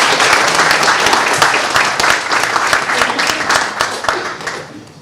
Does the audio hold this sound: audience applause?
yes